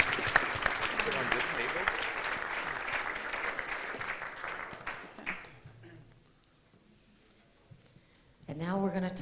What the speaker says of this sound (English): Let's give Johnny a round of applause